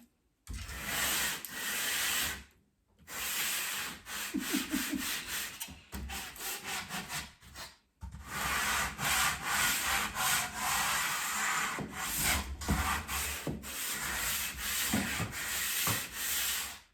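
Wood being sanded while a couch is moved aside for a TV hideaway build, a loud steady abrasive rubbing that runs in long stretches with two brief pauses, heard alone without talk.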